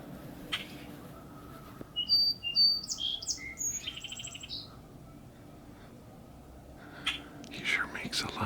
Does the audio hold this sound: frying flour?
no